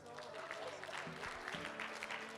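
A church congregation applauds at a gospel gathering, a steady wash of clapping with voices calling out over it, somewhat distant and fairly quiet.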